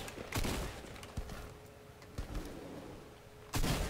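Gunfire in a video game, with several sharp, loud blasts: one near the start, a couple of fainter shots in the middle and a heavy burst at the end, set over a low, steady hum.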